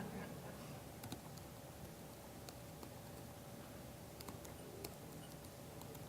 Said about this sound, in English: while I type this